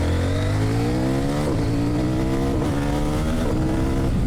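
A CFMOTO 800NK motorcycle on the move, its engine revving hard and climbing through the gears, with a short break and a pop at each quickshift roughly once per second. The engine is loud and close, with no voices.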